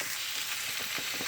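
Vegetables sizzle and fry steadily in a stir fry pan inside an RV kitchen, a close, continuous crackling hiss with a few soft stirring scrapes and no talking.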